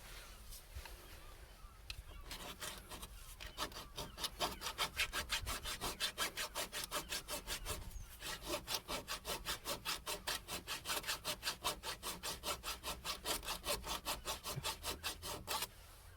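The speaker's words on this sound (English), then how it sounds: "File, just a mini one." Mini hand file rasping back and forth on a workpiece, starting with a few uneven strokes and then settling into a fast, steady rhythm of close scraping passes.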